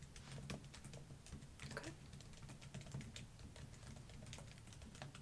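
Soft computer keyboard typing in a quiet travel agent setting, with a steady patter of close, light keystrokes and one brief spoken word.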